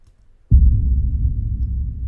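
One heavy, low boom slams in and lingers as a thick, rumbling drone, filling the bass with no higher tones above it.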